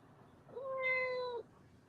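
A pet cat gives one short, clear meow, faint and close, against quiet room background.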